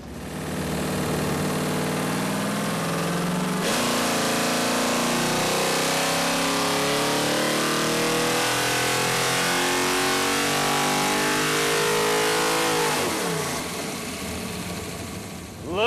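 V8 engine on a dyno making a full pull on a 150-shot of nitrous: a loud, close roar climbing steadily in pitch for about ten seconds, then dropping back as the throttle closes.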